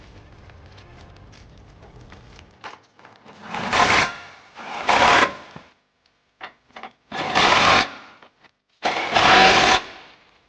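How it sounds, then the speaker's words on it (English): A 21mm swivel socket and ratchet tighten the trailer hitch bolts on a 2011 Jeep Grand Cherokee. Several loud bursts of ratcheting and whirring, each about a second long, are separated by short pauses and faint clicks. "now using our 21mm swivel socket, we're going to go ahead and tighten it up"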